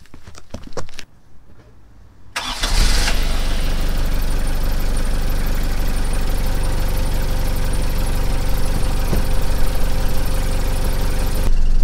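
After a few clunks and a brief pause, the engine of a Mazda Bongo van unused for two years turns over and settles into a loud, steady idle that continues to the end.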